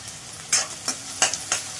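Onion sautés in a kadhai with curry leaves under a soft sizzle, punctuated by four crisp scraping strokes of a spatula stirring at a steady rhythm.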